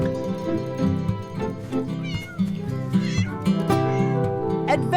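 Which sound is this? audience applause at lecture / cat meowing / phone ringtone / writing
cat meowing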